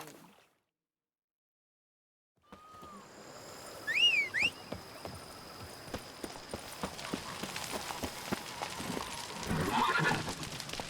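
Roach the horse in the video game Witcher 3 gives a loud whinny after a quiet start, followed by rapid, rhythmic galloping hoofbeats that build and continue close by.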